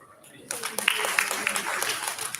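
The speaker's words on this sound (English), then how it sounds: "Round of applause for her, please." Audience applause at a youth ideathon finals event, starting abruptly after a short pause and continuing as steady, moderately loud clapping with a few sharper individual claps standing out.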